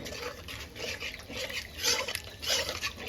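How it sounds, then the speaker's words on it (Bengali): Water poured into cooking curry masala in a pan, a close splashing liquid rush with gurgling bursts that swell and fade over a few seconds. "জল দিয়ে দিলাম।"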